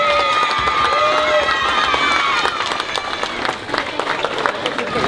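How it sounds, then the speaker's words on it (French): An audience applauds musicians at a music school performance, dense clapping and crowd noise filling the space, loud at first and thinning slightly toward the end, with a voice audible over it. "Je crois qu'on peut les applaudir bien fort"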